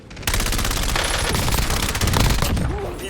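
Rapid automatic gunfire from a French-language tactical squad shooter video game, dense bursts of shots running almost continuously at close range with a loud, steady intensity.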